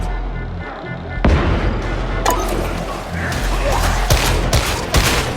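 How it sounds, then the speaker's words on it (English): Warhammer 40,000: Darktide combat brings a dense barrage of gunfire and heavy explosions, including a grenade blast. Repeated loud bursts and booms come close together throughout, with no speech. "Throw a grenade!"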